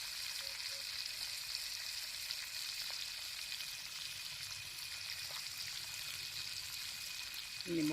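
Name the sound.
fish frying in oil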